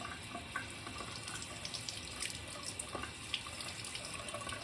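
Kitchen tap water runs steadily while excess soil is rinsed off a plant's leaves, a continuous splashing hiss with small irregular spatters and drips throughout, close and without talk.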